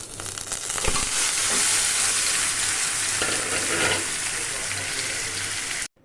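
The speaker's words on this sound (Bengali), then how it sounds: "এরপর আমরা মাংসটাকে ভালোভাবে নেড়ে চেড়ে" Chicken being stirred in a pan with oil and browned onions for a spinach chicken gravy, a loud continuous sizzle with scraping stir strokes near the start, cut off abruptly at the end.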